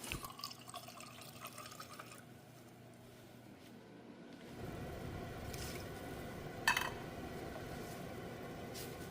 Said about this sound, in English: I will add another ounce or so of water to make up 16 fluid ounces of liquid